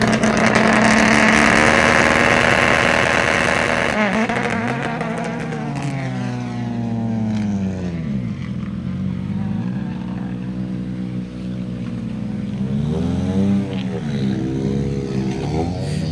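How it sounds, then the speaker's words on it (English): A four-wheel-drive rally car launches off the start line of a forest special stage, its engine screaming at high revs with wheels spinning, then pitch sweeping up and down through gear changes as it pulls away and fades. "You can watch the four wheels bite and spin, whereas the the earlier Focus did look to be predominantly rear-wheel drive coming off the line."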